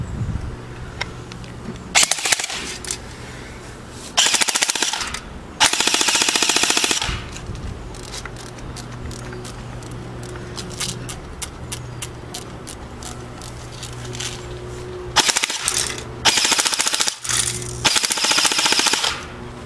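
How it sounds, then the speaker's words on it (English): Loud rifle gunfire from a Smith & Wesson M&P 15 MOE, with several sharp bursts of shots separated by quieter stretches of outdoor background noise, no talking. "Yeah, it's quite a powerful gun."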